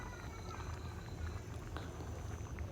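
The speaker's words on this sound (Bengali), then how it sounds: "এখন আরও ভালোভাবে বয়েল করে নেব, মানে উতরিয়ে নেব।" Paneer curry with fried paneer and garam masala simmers at a low boil in a pot, giving a faint, steady bubbling hiss with soft scattered pops throughout.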